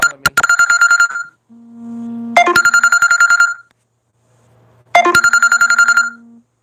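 A telephone ringing with an incoming call, three separate bursts of rapid electronic trilling tones, loud and close, with short gaps between them that carry a softer steady tone.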